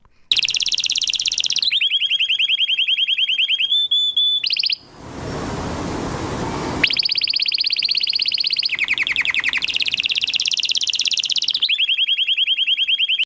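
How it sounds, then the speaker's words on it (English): A canary sings loudly and close in long trilled, whistling phrases with rapid repeated notes, broken midway by a short burst of noisy hiss before the song resumes. "Next, we have a canary."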